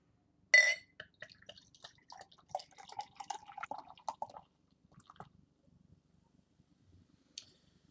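Beer being poured from a freshly opened bottle of Dogfish Head Raison D'Extra into a glass, starting with a sharp clink and then soft splashing, gurgling and fizzing that trails off into quiet drips.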